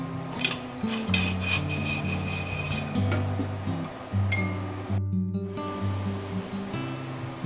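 An old car fan belt is cut during an upper control arm removal. Faint rubbing and rasping cutting strokes sit under a steady low hum, close but quiet.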